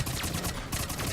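Rapid automatic gunfire in the shooter game Mass Effect 3, a dense, loud burst of overlapping shots with a brief gap midway before the firing resumes.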